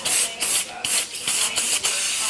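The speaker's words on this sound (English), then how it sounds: "Obviously, we're gonna disinfect the clipper with some spray." Disinfectant spray from an aerosol can on a set of very old hair clippers: about six sharp, loud hissing bursts in quick succession with short gaps, close to the mic and with no voices.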